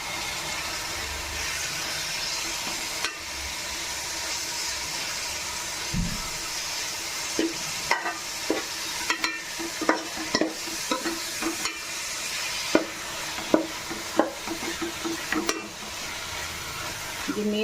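Mutton keema fries with onions in a pan under a constant sizzling hiss, joined midway by a run of spatula clicks and scrapes against the pan.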